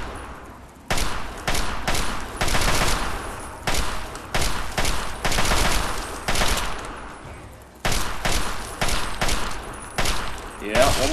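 Gunfire from the video game Fallout 3 during a fight with rad scorpions: a run of loud, close shots in quick clusters with short gaps between them, under intermittent game noise.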